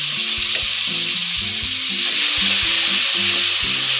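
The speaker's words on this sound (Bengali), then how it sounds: "আদা বাটাটা দিয়ে আমি ভালোভাবে এটাকে কষিয়ে নেব।" Tomato and ginger paste sautéing in a pan for a vegetarian cabbage curry, a loud, close, unbroken sizzle with a low rhythmic tone beneath it and no talking.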